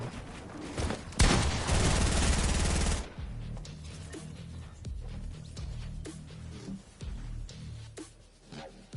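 Rapid bursts of automatic gunfire in a Fortnite match, a dense loud volley early on followed by scattered shots and clatter with game sounds, no speech heard.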